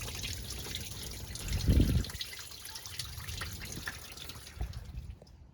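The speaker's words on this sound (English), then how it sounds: "That thing sprays out of there fully open. It shoots straight at the tire. It's flowing out of there now." Coolant draining from the radiator drain of an 80 Series Land Cruiser: a steady, close trickle and splash of liquid, quiet, swelling briefly in the middle, with no speech.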